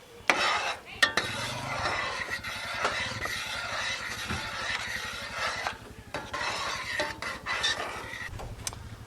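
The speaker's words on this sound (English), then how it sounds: "We're going to mix all that together." A spoon stirs barbecue sauce and pork in a metal pot, scraping and clinking against the sides with uneven strokes, close and clear with no talking.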